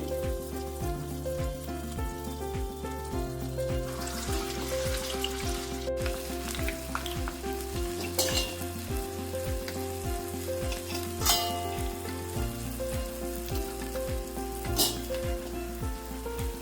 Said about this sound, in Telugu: అన్నీ వేసుకొని ఇలా ఫ్రై చేసుకోండి, సరిపోతుంది.